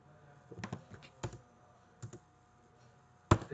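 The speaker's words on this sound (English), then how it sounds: "I'm going to type a print statement here, system dot out" Keys clack on a computer keyboard while Java code is being typed. The keystrokes come in short irregular clusters of clicks with pauses between them, and a sharper, louder key hit lands at the end. Everything sits over a quiet room.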